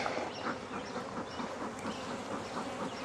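Dense, steady swarm of honeybees droning around an opened hive while smoke is puffed over the colony a week after a split, a continuous close hum with no talk.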